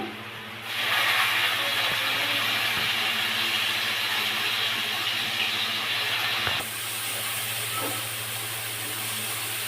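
Onions frying in oil, a loud, steady broadband hiss that jumps up sharply after the first moment and drops slightly about two-thirds of the way through, continuing without pause.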